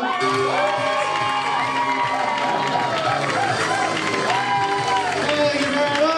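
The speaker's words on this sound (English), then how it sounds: "Another round of applause for Hannah, everyone." A comedy club audience applauds and cheers steadily after a stand-up set, a continuous wash of clapping with whoops and shouts layered over it, and a voice talks through the noise.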